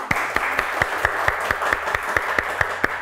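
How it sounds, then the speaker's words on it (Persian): Studio audience on a quiz show clapping together in steady, loud rhythmic unison, sharp evenly spaced claps repeating throughout with no talk over them. "کف بزنین"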